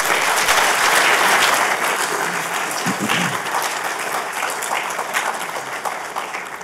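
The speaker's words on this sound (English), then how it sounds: "Please give Jai another round of applause." A room full of people claps steadily for several seconds, dense and even, slowly tapering off without voices.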